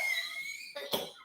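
A man coughs in two short, harsh bursts close to the microphone, the second louder, after a quiet stretch of steady high-pitched background tone.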